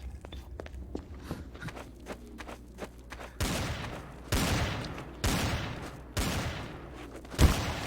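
Gunfire in Trouble in Terrorist Town rings out as a string of sharp, distant cracks, followed by several louder, broad bursts spaced about a second apart.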